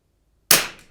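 A single Rim-X .22LR rifle fires one sharp, close shot on a benchrest range, a crisp crack with a short fading tail after silence.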